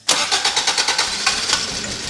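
The engine of an abandoned Toyota AW11 MR2 with 46k miles cranks loudly and close, a rapid, even chugging of starter pulses as it struggles to fire but never quite catches.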